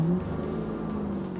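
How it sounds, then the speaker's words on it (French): A Cranchi Endurance 27 boat's 5.0-litre V8 engine roars steadily with a deep, sustained rumble, loud and close, settling slightly after a brief surge at the start. "Ah, le moteur rugit fort bien."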